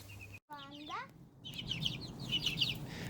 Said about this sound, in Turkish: Hadi şimdi e, bu yavruları büyük tavuk kümesine alalım.